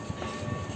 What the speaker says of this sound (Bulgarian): И хора, това е бързия влак.